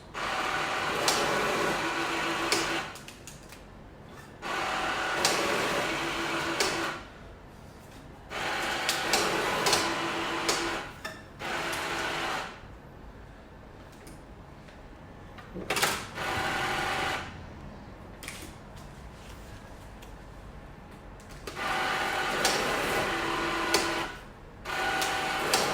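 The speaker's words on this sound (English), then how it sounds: "So we've set up the machine, so it's going to basically batch 10 at a time" A banknote counting machine batches notes ten at a time, whirring in repeated bursts of a few seconds each separated by short pauses, loud and close with little talk.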